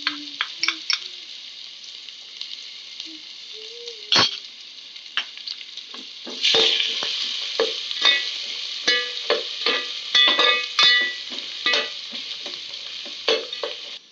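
Coconut and garlic roasting in a pan of fried peanuts for a Marathi bhadang snack, giving a steady sizzle with repeated scraping and stirring strokes, louder and busier in the second half.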